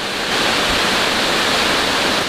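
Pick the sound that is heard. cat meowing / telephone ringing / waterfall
waterfall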